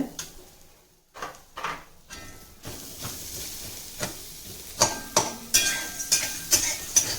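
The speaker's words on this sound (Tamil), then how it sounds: "பருப்பு வகைகள் நம்ம வறுக்கும் போது இதுக்கு வந்து ஒரு கொஞ்சமாக தேங்காய் நல்லா வாசனையாக இருக்கும்" Lentils and coconut roasting in a pan give a soft hiss, with a spoon scraping and tapping the pan in a regular rhythm that grows louder and quicker toward the end.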